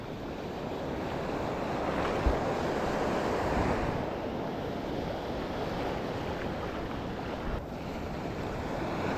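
Loud, continuous crash and roar of heavy ocean surf with a strong current, waves breaking close by and wind buffeting the microphone throughout, during a fishing trip.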